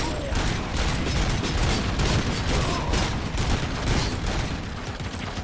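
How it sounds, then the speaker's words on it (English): Heavy machine guns firing in the Robocop: Rogue City video game, a dense, continuous rattle of rapid gunfire with booming impacts that holds steady and loud throughout. "They're already pulling out their heavy machine guns."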